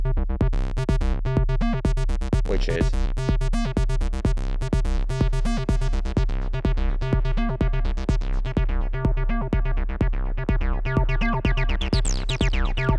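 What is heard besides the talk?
synthesizer 303 bassline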